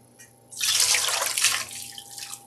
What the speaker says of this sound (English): We're going to pour it into the drainer and drain them out.